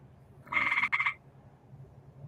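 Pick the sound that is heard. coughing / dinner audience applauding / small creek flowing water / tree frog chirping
tree frog chirping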